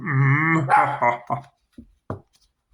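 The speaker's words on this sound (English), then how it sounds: "Dog barking. That's what it is." Dog indoors gives a drawn-out whining vocal followed by two short, sharp barks, close and fairly loud with silence between.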